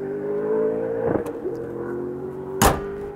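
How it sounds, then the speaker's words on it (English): A Hennessy Venom car engine being tested nearby holds a steady, droning rev, punctuated by a couple of sharp knocks, with no talk over it. "That noise is the Hennessy Venom, which is being tested here."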